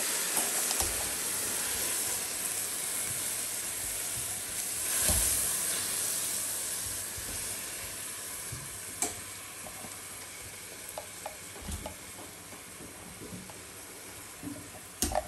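Chopped onion frying in a pan as a prepared mixture is added for a minced-meat stuffing, giving a steady, close hiss of sizzling with a few soft clatters and knocks scattered throughout.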